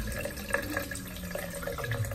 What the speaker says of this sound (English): if I get hot water, so I'm just running some hot water now